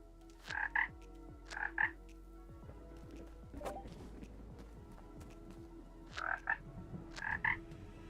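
A frog in the Ikonei Island video game croaks in four short double calls spaced a few seconds apart, moderately loud over a steady low ambient hum with faint ticking, light footstep-like taps; no talking.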